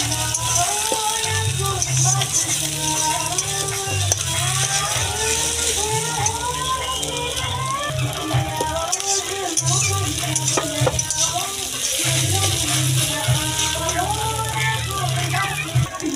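Two beaten eggs stirred while frying in oil in a pan for a lentil tarka dish, steady sizzling with scraping, rattling spatula strokes throughout, while a person talks over it.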